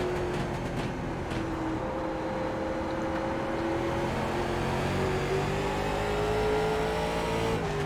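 A late model race car engine accelerates at Langley Speedway in iRacing. The loud, continuous drone climbs steadily in pitch, dips briefly as the gears change and then rises again.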